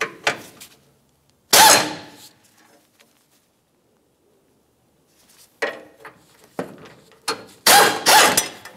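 A ratchet works the 10 mm mounting bolts of a radiator support beam on a 2010-2013 Ford Transit Connect, giving close bursts of clicking separated by silent gaps.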